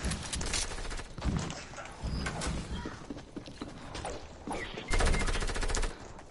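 Gunfire in the video game Fortnite comes as dense, rapid bursts of shots, loud at the start and again near the end. Quieter mechanical clatter fills the gaps between bursts, and there is no speech.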